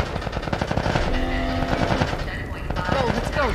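Rapid machine-gun bursts and scattered gunshots from The Last of Us gameplay, loud and continuous with voices shouting underneath.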